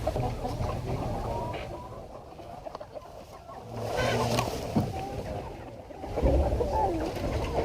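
Chickens cluck inside a chicken tractor on a grazing farm, faint and scattered beneath outdoor background noise and rustling.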